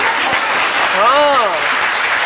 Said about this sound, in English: So clap and tell me no.